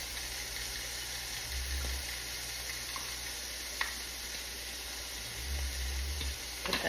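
Potatoes with peppers and onions frying in a pan on the stove, giving a steady, even sizzle throughout with a few light clicks and scrapes of a utensil, no voices.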